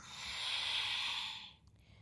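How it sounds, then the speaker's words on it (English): A single long, airy breath forced out during a slow exercise movement, swelling then fading over about a second and a half, close to the mic and alone. "Do another 4, breathing in and exhale."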